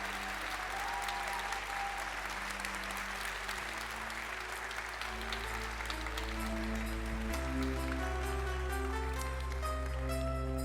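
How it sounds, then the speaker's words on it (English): Audience applause at a cosplay contest at MagicCon Amsterdam, a dense, sustained round of clapping from a large crowd under stage music, continuing without a break. "Let's have another huge round of applause for Pantlaa."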